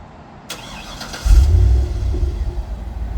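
A Cadillac Escalade with dual exhaust and resonator cranks briefly, then fires up into a deep, close rumbling idle with a short rev.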